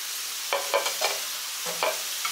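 Potatoes roasting in a pan with a light sizzle under a steady background hiss, broken by several short scraping stirs of a spoon against the pan.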